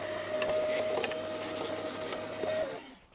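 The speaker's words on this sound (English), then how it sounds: "I'm just going to get the hoover and get that sucked out" A vacuum cleaner whines with a steady motor tone, sucking muck out of the air filter box of a Renault Clio 172 Cup, with small rattles of debris, then cuts off and winds down at the end.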